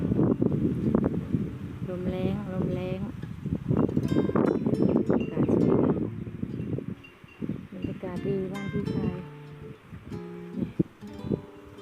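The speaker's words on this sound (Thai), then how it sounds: "ลมแรง" Strong wind buffets the microphone outdoors among flowering plants, a loud rushing rumble that eases midway, with voices talking over it.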